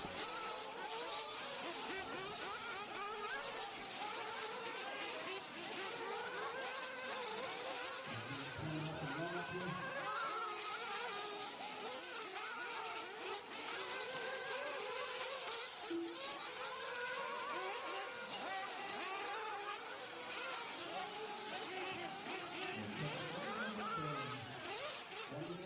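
Nitro RC cars on a dirt track during a warm-up make a continuous buzzing, high-pitched whine from several small engines heard at a distance, rising and falling as they rev, with faint crowd or background noise and no close talk.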